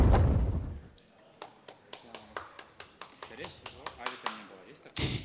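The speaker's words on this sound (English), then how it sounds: "Yeah, and like a very polite clap as well." At the IEM Cologne 2024 Counter-Strike match between Virtus.pro and Complexity, the crowd gives a sparse, polite round of single claps, evenly spaced and fairly faint, after a brief voice at the start.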